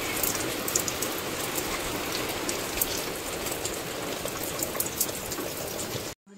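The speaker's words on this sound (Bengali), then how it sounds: "প্রতি বছরের ন্যায় এবছরেও বৃষ্টি হচ্ছে।" Steady rain pours down continuously, a dense broadband hiss with scattered droplet taps on nearby surfaces, even and unbroken before cutting off abruptly near the end.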